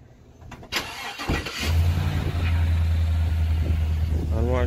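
An unmarked patrol car engine rumbles into a steady low idle after a few clunks and a door-like thump, close by, with a voice briefly audible near the end.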